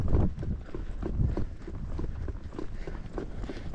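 A young colt on its first ride out, hooves clip-clopping on the ground at a quick, uneven pace, close and fairly loud, with light rustle around.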